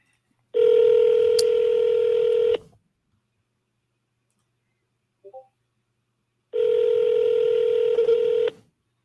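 A phone call being placed to a home seller rings out as two long, steady ringback tones separated by several seconds of silence, with a faint brief click between them.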